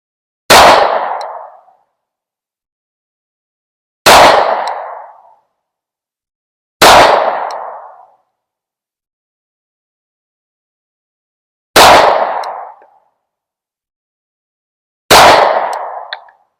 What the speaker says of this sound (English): there was 5 shots out of the Glock 43X